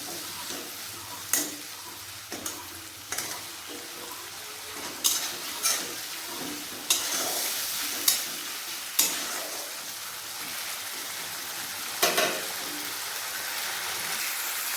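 A paste of ginger, garlic, whole cumin and two dried red chilies fries in oil for a thin magur catfish curry: a steady bright sizzle broken by regular spoon scrapes and knocks about every second.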